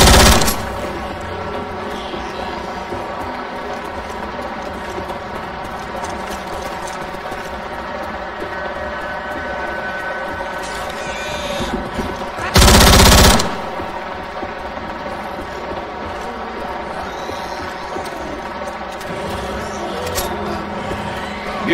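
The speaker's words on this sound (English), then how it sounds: "Grabbing a machine gun." Machine gun fire in the video game Left 4 Dead runs as a dense, continuous rattle under game noise, with one sharp, loud burst about midway.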